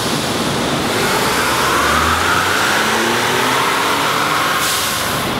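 A 2017 Ford F-150 with the 3.5L EcoBoost engine roars loud and sustained under full throttle during a dyno pull, its engine note climbing as the revs rise, with no one talking.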